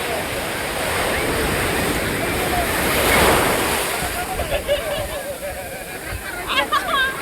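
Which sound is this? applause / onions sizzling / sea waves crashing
sea waves crashing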